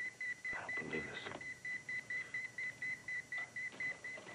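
A telephone rings with a steady repeating electronic tone in an indoor scene, pulsing evenly over several seconds at moderate volume, with brief soft sounds early on.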